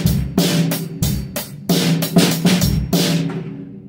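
A drummer plays a common eighth-note groove on a drum kit with bright, crashing cymbal hits over punchy bass and snare strokes. The rhythm is steady, loud and close, and no one talks.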